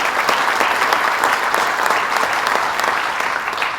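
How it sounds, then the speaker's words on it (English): An audience at a business council presentation in Bolton Landing breaks into a round of applause, with a dense, even wash of clapping that holds steady and close for several seconds with no speech. "Let's give her a round of applause"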